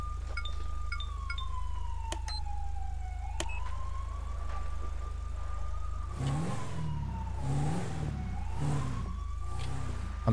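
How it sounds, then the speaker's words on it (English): A police Jeep drives in Grand Theft Auto V on a FiveM roleplay server, a wailing siren sweeping up and down over a steady low engine drone, then the engine revs and roars in surges partway through. "let's do some patrolling in a Jeep"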